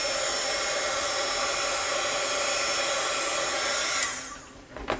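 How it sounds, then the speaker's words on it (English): Electric heat tool blowing steadily to dry watercolor paint on a card, a loud, even whoosh that holds for about four seconds, then cuts off and winds down to near silence. "use my heat tool."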